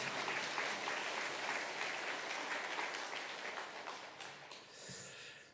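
Sustained applause from a church congregation during a Sunday worship service, dense steady clapping filling the room at a distance, fading toward the end.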